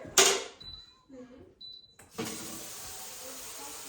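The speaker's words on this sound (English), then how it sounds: "fill it up with water." Water pours from a tap into a humidifier's plastic tank, with brief clicks and handling clatter beforehand, then a steady rushing flow close by.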